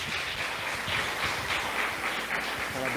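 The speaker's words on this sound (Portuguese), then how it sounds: "Você pode aplaudir ao Senhor." A church congregation applauds at a thanksgiving service, a steady wash of clapping hands sustained for a few seconds at moderate volume.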